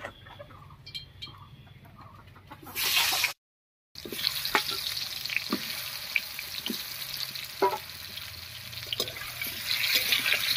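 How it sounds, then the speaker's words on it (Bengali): Pointed gourd (potol) frying in hot oil in a home kitchen: a steady, soft sizzle and crackle runs throughout, close and fairly quiet, with a louder burst and a brief gap early on. "তেল গরম হয়ে গেছে, এবারে পটলগুলো দেব।"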